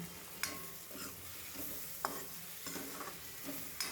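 Capsicum and cabbage sizzle and fry in a pan while a spoon stirs them, with soft steady crackling broken by several sharp scraping clinks of the utensil against the pan.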